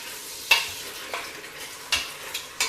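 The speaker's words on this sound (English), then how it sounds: "So my meat is in here. I'm just going to stir it up" Pieces of veal browning in a pot are stirred, with a few distinct scraping clacks of the spoon over a faint, steady sizzle, quiet and close, no talking.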